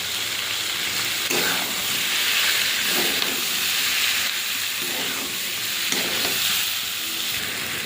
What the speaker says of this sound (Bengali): পটল আলু চিংড়িটা দিয়ে দিই ভাজার সময় লবণ দিয়েছিলাম অল্প করে একটু লবণ দিয়ে দিই দিয়ে ভালো করে কষিয়ে নেব